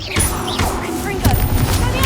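A Confringo explosive spell cast in Hogwarts Legacy, a sharp fiery blast followed by crackling impact bursts and a second hit, heard amid busy game combat effects.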